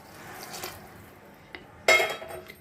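Hot water poured into a pot of soybean rice khichdi, soft clinks of the pot followed by a brief splashing pour near the end, no talking.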